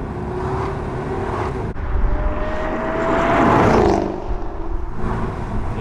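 A supercharged Jaguar XKR V8 revving up, a rising mechanical drone that swells loudly in the middle and then settles back, with no talk over it.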